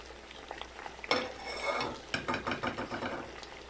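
Chili being stirred into a pan of Bicol Express, a spicy dish: a utensil scrapes and clinks against the pan in an uneven series of knocks, with a soft bubbling cooking hiss underneath.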